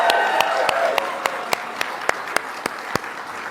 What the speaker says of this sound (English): Can we please applaud Sophia?